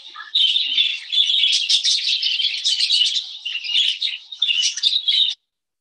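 A flock of small birds chirps and tweets busily and continuously for about five seconds as they go for soft food in feeding pipes, close and bright, with no voices over them, then stops abruptly.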